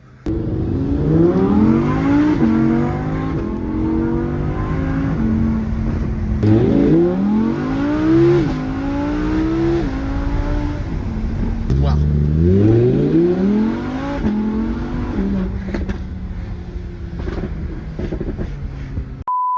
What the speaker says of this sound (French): Le V10 atmosphérique 5 litres 2.